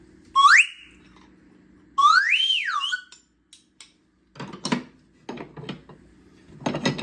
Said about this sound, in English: Small bird and slide whistles.